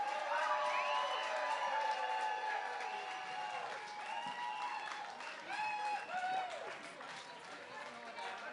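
A crowd applauds and cheers at the homecoming of the Clipper Round the World race fleet in London, continuous clapping mixed with horn-like tones and a loud announcer's voice.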